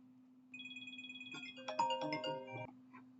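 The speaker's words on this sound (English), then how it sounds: "Sorry, I received phone call." A phone ringtone for an incoming call plays a bright, repeating electronic melody, starting with a pulsing tone and then swelling into layered chimes before cutting off, over a low steady hum.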